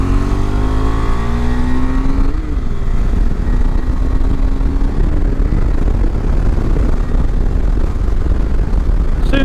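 KTM 390 Adventure motorcycle accelerating on a fast road in extreme weather, engine note climbing through the revs with a gear change, loud and steady over heavy wind rush.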